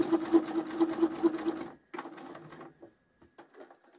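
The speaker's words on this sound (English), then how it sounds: "I'm just following the first stitch line that I've put through" A sewing machine stitching a gather line along fabric, fast steady whirring with rhythmic needle clatter for about a second and a half, then stopping, followed by scattered quieter clicks and handling sounds nearby.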